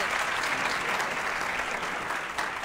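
A studio audience on a Catalan television quiz show applauds a student team from a Ripollet secondary school with dense, continuous clapping that holds steady and close for the whole stretch, without voices over it.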